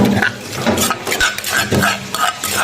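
A large mortar and pestle pounds a spicy star gooseberry salad in the style of som tam, with loud, close, evenly spaced thuds mixed with wet scraping.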